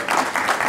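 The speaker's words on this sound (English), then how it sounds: "Good round of applause." Short burst of audience applause at a public talk on walkable, healthy cities in Vancouver, a dense wash of many hands clapping at even loudness.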